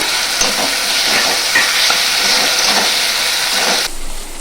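Green chillies hitting hot oil with ginger garlic paste, a loud, dense hiss and sizzle with a few sharp pops that abruptly drops in level near the end; no talking.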